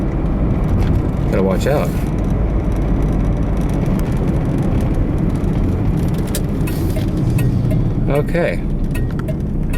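A car with a 2.0 four-cylinder engine roars loudly from inside the cabin as it accelerates hard, the drone steady and full with gear changes, while someone talks briefly over it.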